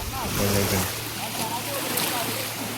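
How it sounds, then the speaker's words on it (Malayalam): Wake waves from a passing boat wash and slosh steadily against a small boat on open water, a continuous close surging rush with a low engine hum underneath and faint voices. "ഇത് ബോട്ട് പോയതിൻ്റെ തിരമാലയാണ്."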